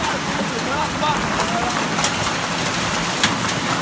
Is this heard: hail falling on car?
yes